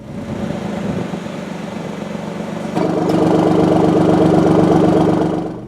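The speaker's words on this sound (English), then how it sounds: "the exhaust kind of opens up, gives it a nice rumble" A 2017 Alfa Romeo Giulia Quadrifoglio idles steadily, then the exhaust note steps up into a deeper, louder rumble that holds before fading slightly at the end.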